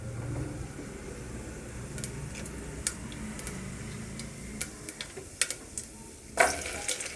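Mustard seeds and cumin sizzle in hot oil for a sambar, a soft steady frying hiss with scattered sharp pops and crackles that grow toward the end.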